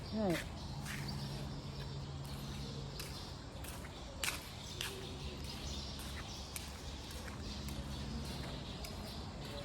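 Birds call outdoors in the early morning, scattered chirps over a steady ambient background, with a person speaking through it.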